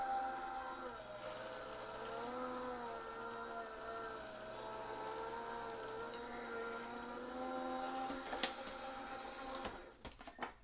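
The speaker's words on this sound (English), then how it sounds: "let's go ahead and run this through the die cutting machine" A die cutting machine runs in a craft room, a steady mechanical whir with humming tones, ending in a few sharp clicks and clacks.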